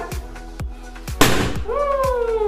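A balloon bursting with one sharp, loud pop midway, followed by hissing noise; a faint melodic tone lingers in the background.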